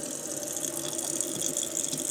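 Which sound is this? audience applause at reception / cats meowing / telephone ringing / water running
water running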